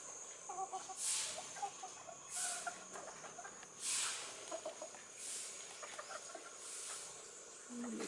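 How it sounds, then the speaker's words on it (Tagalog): A small bantam chicken clucks faintly outdoors at an eco-tourism park, with soft, scattered bursts of clucking repeated over several seconds against quiet ambient background. "Ito yung maliit na manok."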